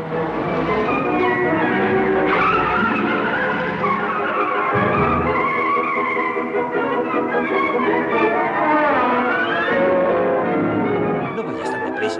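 Car driving fast through an office district, tires skidding and squealing repeatedly over a steady engine and busy background, loud and close with no talk.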